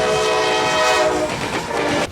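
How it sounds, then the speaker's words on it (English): A big train locomotive rumbles close by with a sustained, loud tonal drone like a horn or engine whine, steady for about two seconds before cutting off abruptly near the end. "Chances are you've never gotten this close to one of these big locomotives."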